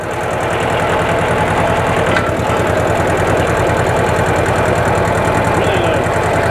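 An old diesel tractor engine that had been parked for years runs at high RPM, a loud, steady, close rumble with a fast knocking pulse that holds throughout without letup.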